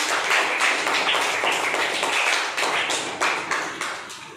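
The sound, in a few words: kids clapping for correct answer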